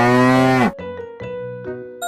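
A cow gives a loud, close moo that drops in pitch, followed by bright chiming ding-dong tones in a steady rhythm.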